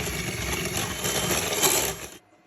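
Electric mixer beating sugar with butter in a bowl, a close continuous whirring drone with a slight rattle that runs steadily for about two seconds and then cuts off.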